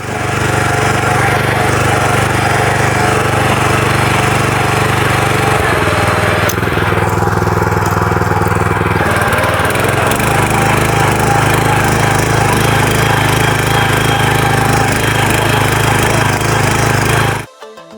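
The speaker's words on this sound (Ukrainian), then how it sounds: "зараз спробуємо ось на дерні, на цілині, як справляться ці фрези і як справиться цей мотоблок із цілиною" A GTM GH-7/100 walk-behind tractor with rotary tiller cutters churning through virgin sod, its engine droning loud and steady with a shift in load partway through, then cutting off abruptly at the end.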